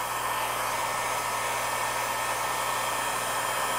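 Heat gun blowing hot air over a plastic hood protector on a car, a steady, close, breathy rush of air with a constant motor hum throughout and no talking.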